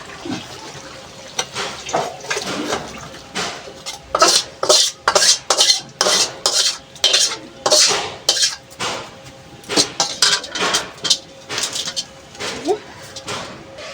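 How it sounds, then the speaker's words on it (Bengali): A spoon scraping and clinking against a metal cooking pot in quick bursts while cooked koi fish with eggplant curry is transferred into a bowl, close and fairly loud. "এবার আমি এটা ঢেলে নেব একটা পাত্রে। ঢেলে নেব এই গামলিতে।"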